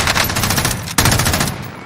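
Gunfire in Call of Duty: Warzone, with a light machine gun firing rapid, loud, close automatic bursts that pause briefly and then resume.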